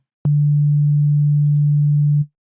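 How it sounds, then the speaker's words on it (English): A steady pure sine tone sounds alone for about two seconds, loud and unwavering, with a tiny click at its start and end. "Starts off a simple sine wave"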